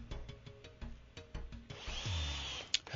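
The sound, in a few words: power drill driving screw into gate stop rail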